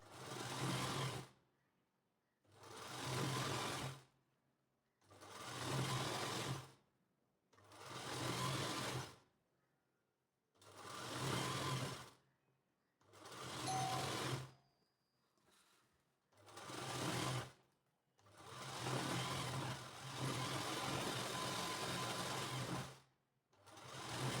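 A sewing machine stitches fabric from an old sari into a lehenga in repeated bursts of close, steady running. The bursts last a few seconds each, with short pauses between them, and the final run is longer.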